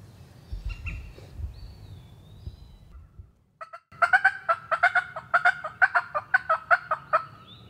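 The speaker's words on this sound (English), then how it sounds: "You think they're done gobbling?" Wild turkey gobbles in a spring woodland, a burst of rapid rattling gobbles repeating about a dozen times in the second half, loud and fairly close, after quieter rustling at the start.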